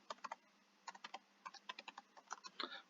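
Computer keyboard keys pressed in short, uneven bursts, crisp and close, with pauses between groups of taps while a search term is typed, no voices present.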